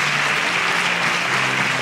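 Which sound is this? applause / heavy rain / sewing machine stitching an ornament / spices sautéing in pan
applause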